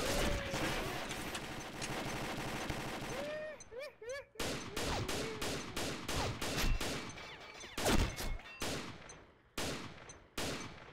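Rapid bursts of gunfire in the video game Combat Arms, continuous at first, then broken into sharp, loud volleys with brief pauses between them.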